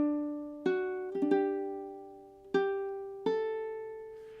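Ukulele plucked with the thumb picks out the pickup and opening notes of Loch Lomond: five clear single notes with ringing decay, unhurried and close, no talking.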